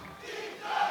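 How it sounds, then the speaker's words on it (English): A wrestling crowd at a lucha libre show cheers and shouts for Titan late in a match, a broad, steady roar of many voices heard from a distance. "Here's some of the crowd getting behind Titan now, late into this match"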